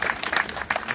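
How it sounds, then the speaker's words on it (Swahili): A gathering at a classroom commissioning ceremony breaks into brief, moderately loud applause for the local MCA, a short burst of scattered hand claps with light crowd murmur. "Ile makofi ya mheshimiwa wetu MCA"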